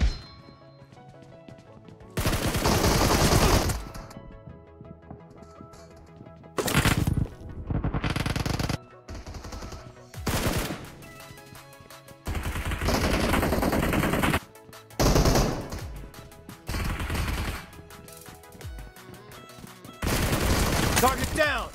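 Gunfire in the mobile shooter BGMI, played with a six-finger claw grip: loud bursts of rapid automatic fire separated by quiet gaps, some volleys short and others sustained for a couple of seconds, with a voice speaking occasionally.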